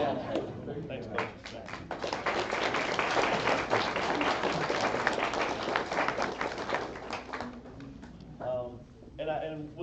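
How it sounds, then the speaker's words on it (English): A school board meeting audience applauds, dense steady clapping filling the room for several seconds before tapering off, with a few voices talking as it fades. "And we'll try to just kind of hold our applause."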